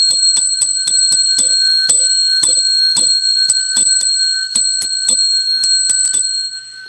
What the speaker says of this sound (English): That was the beginning of Jingle Bells